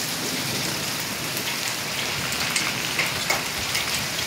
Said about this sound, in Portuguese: Isso tudo caindo é pedra.